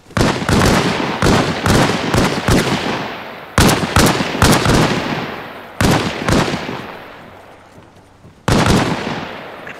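Five sharp gunshots ring out in Arma Reforger, spaced a second or more apart, each loud and close with a long decaying echo tail, and no talk over them.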